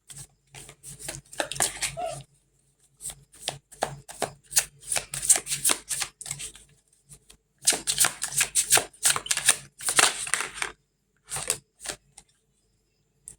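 Tarot cards being shuffled up close in repeated riffling bursts, each flurry of papery slaps separated by short silent pauses.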